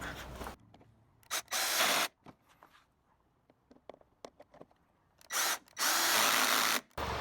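A power drill on a VW GTI MK7 tightens intercooler hose screws in several loud short bursts separated by quiet pauses with small handling clicks.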